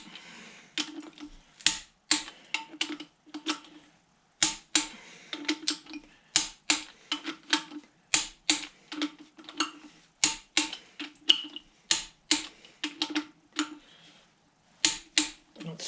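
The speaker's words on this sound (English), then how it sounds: "the click in the torque wrench is when it's at what you've set it to" Repeated sharp metallic clicks of a torque wrench tightening flywheel bolts on a 1955 Fordson Major tractor, close up, in quick clusters with brief pauses between them.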